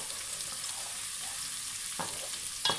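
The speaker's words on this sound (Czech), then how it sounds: "Já to mám strašně ráda, když se smaží cibule a česnek" Onion and garlic fry in a pan in a home kitchen, making a steady close sizzle with a few louder crackles and stirring scrapes near the end, and no one speaks.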